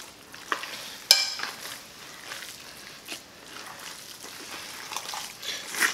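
Hands squelch and knead a meatloaf mixture of sausage, ground beef, eggs and cheese in a bowl, soft wet mushy pulses with a sharp knock near the start, close and fairly quiet.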